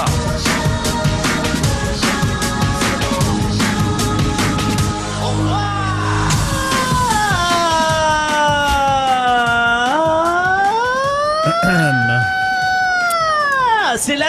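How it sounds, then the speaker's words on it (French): An ice skating rink siren at the Atrium du 1000 de la Gauchetière blares loudly, its pitch gliding down and back up in long wailing sweeps over a noisy, busy background. "C'est la sirène d'une patinoire, Monsieur Morassi."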